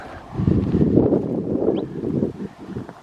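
Wind buffets a microphone outdoors on a hillside ranch by a boundary fence, giving loud, steady low rumbling gusts with no speech.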